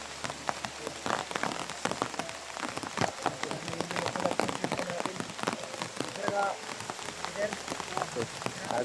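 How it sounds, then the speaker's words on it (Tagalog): Heavy rain pours down hard, a dense steady patter of drops drumming on nearby surfaces throughout, with faint voices now and then beneath the downpour. "Sobrang lakas ng ulan ngayon."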